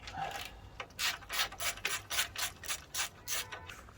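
A bolt being worked loose on a Kawasaki GPZ900R motorcycle during a teardown, heard as a close series of about eight rhythmic rasping, ratcheting strokes with no talk.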